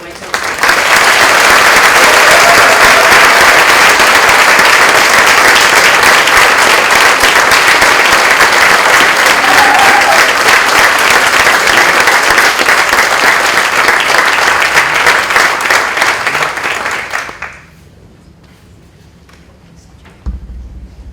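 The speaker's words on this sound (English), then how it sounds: "One last round of applause for our Waco." Loud, sustained applause from the audience at a Springfield College physician assistant white coat ceremony, a dense wash of many hands clapping that cuts off sharply near the end, leaving quiet room tone.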